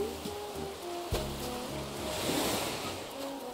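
Steady rushing water from waterfalls in the Animal Crossing video game, a soft continuous wash with faint game tones and chimes over it, fairly quiet.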